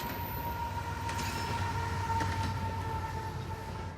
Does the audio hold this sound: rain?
no